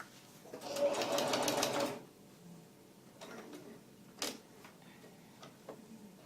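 A sewing machine stitches underquilt fabric in a fast, close, buzzing burst of about a second and a half, then stops, leaving a quiet room with a few small ticks and handling clicks.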